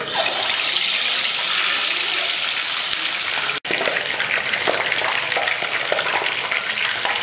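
Loud, steady sizzling of an item frying in very hot, smoking palm oil (azeite de dendê), a dense crackle that fills the whole stretch with one brief dropout midway and no voices.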